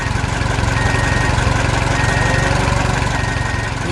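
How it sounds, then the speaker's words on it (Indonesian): A large tractor hauling a trailer loaded with trees, its engine chugging in a steady, loud, continuous low drone with a rapid rhythmic knock throughout. "Traktor besar membawa trailer penuh pohon."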